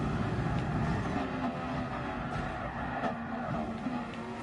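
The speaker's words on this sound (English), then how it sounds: "I was driving the F1 car" F1 race car in the racing game Gran Turismo Sport, a steady high engine whine with faint tyre squeal and shifting pitch, continuous and fairly quiet, no talk.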